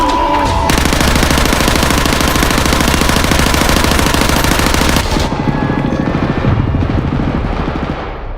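Sustained automatic gunfire from a guard's weapon in a Squid Game scene, a loud, rapid, unbroken burst of shots that rattles on for about five seconds and then drops to a rougher, thinner stutter of fire.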